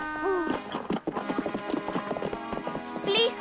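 Horse hooves clip-clopping at speed in a rapid rhythmic patter, with a whinny and a voice speaking over the top, close and fairly loud.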